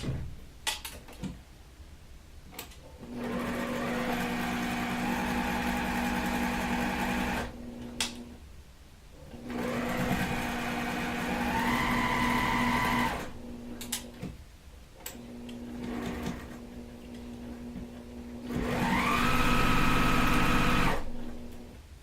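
A sewing machine stitching a flower-pot quilt block runs in three long bursts of whirring, rhythmic motor hum, separated by short pauses with small clicks and handling noises. It is close and clear, with no speech.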